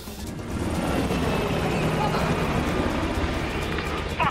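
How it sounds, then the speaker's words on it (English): A helicopter flying away in the Call of Duty Black Ops Cold War video game, a loud continuous rotor and engine roar that swells in and holds steady, with game voices speaking over it. "The chopper got away!"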